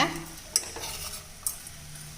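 Brinjal sizzles quietly in a pan as a utensil stirs it, with a couple of sharp scraping clinks against the metal.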